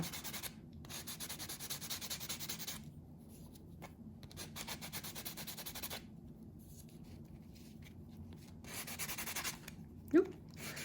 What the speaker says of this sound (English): Just a quick buff over the surface.